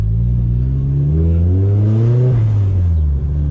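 Manual Nissan S15 Silvia accelerating, its engine note rising steadily in pitch over a few seconds, then dropping briefly as if at a gear change before pulling again; loud, close and continuous with no talk.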